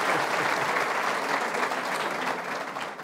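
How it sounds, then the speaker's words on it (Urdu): Studio audience applause for a panel on an election talk show, a steady, fairly loud wash of clapping that holds for about three seconds and fades slightly at the end. "اور پورے پینل کے لیے تالیاں بجا دوں گی."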